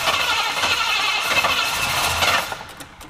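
A Rover V8 in a Buick cranks and struggles to catch, a rough, uneven churning that runs for a couple of seconds then tails off into a few sputters, close by, with no talk.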